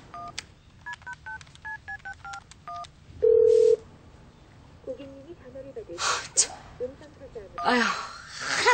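A telephone keypad beeps through a quick run of about a dozen dialing tones, then a long steady tone sounds, followed by someone speaking and sighing and other voices.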